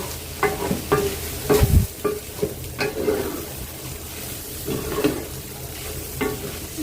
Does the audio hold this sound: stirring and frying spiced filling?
yes